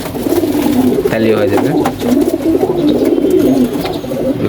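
Pigeons in a backyard coop coo in low, repeated rolling calls close by while someone talks over them throughout.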